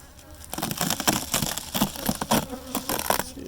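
Honey bees buzz in an opened beehive in early September, a dense close droning with crackling and scraping from handled frames throughout, no voices.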